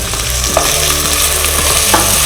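Green beans and peas frying with onion in a pan: a loud, close, continuous crackling sizzle with low rhythmic stirring bumps underneath.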